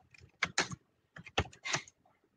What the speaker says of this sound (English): I'm just typing the email ID in the chat box.